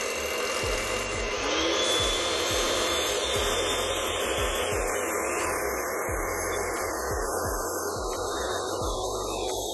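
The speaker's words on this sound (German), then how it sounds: "und jetzt schlägst du das mit der Maschine eben schnell auf" An electric mixer quickly whips dalgona coffee with a steady, loud, close whir whose pitch rises slightly as the foam thickens, running continuously with no talking.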